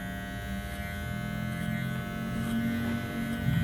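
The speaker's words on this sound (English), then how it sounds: "Always flicking the clipper away from the scalp at the point where you want to blend in to the longer length." A Wahl Legend electric hair clipper buzzes steadily and close up while cutting a fade, its motor hum level and continuous with slight swells as the blade flicks away from the scalp.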